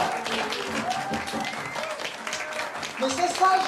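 An audience applauding itself after a show, steady mixed clapping with a few voices and exclamations over it, holding fairly even and swelling slightly at the end.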